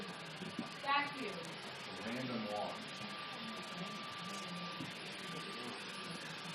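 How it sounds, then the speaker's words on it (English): A vacuum cleaner runs steadily in the room, a constant whooshing hum with a faint whine held throughout, while people talk over it. "Can't hear you over the vacuum."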